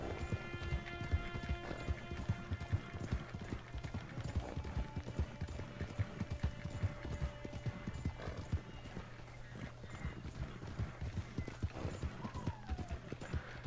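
Horse hooves clip-clop steadily in Red Dead Redemption 2, a sturdy, slow workhorse and warhorse breed walking at an even rhythm, close and clear, with occasional whinnies and soft ambient tones behind.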